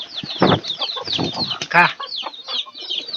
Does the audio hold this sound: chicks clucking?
yes